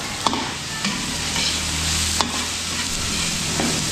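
Chicken liver frying in a pan, a dense continuous sizzle with a few sharp spatula clicks, close and loud, no talking.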